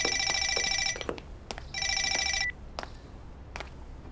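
A telephone rings in two bright electronic bursts with a short gap between them, followed by a few scattered clicks and knocks in a quiet room.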